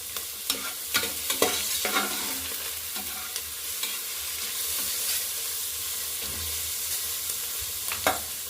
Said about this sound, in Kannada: ಎಲ್ಲ ಫ್ರೈ ಆಗ್ತಾಯಿದೆ.